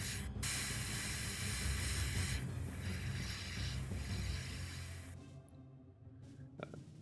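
An airbrush sprays paint onto a lava-effect miniature base in a steady, loud hiss lasting several seconds, with brief pauses in the flow before it stops, leaving near silence and small clicks.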